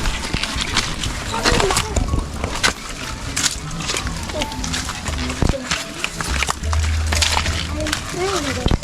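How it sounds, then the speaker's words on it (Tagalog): Strong sea waves surge and wash over rocks and gravel near Pundakit Falls, a steady close roar of water running under continuous conversation. "Yung agos ng dagat."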